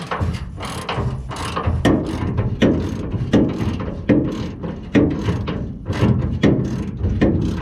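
A ratchet wrench loosens a bolt on a 1976 Ford F100, giving loud, close bursts of rapid clicking repeated in regular strokes with brief pauses between them.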